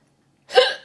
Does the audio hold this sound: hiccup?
yes